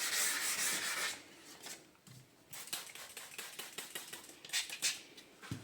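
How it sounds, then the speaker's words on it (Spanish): Steady rubbing and scratching of sandpaper against a yellowed headlight lens, in rhythmic back-and-forth strokes, close up, pausing briefly midway. "para después lijar lo contrario, para ir sacando de a poco las rayitas"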